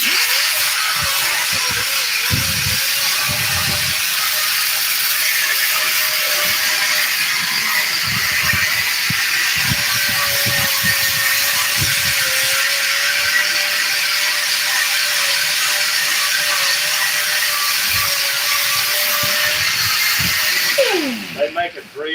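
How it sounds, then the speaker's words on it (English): Angle grinder cutting and grinding off metal from a car sun visor frame during an auto interior recovering job, a steady high whine running continuously for about twenty seconds before spinning down at the end. "so I'm just going to grind that off."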